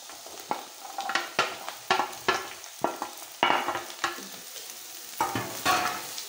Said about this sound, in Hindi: अब इसमें मैं गाजर डालूंगी, सारी गाजर डालना है।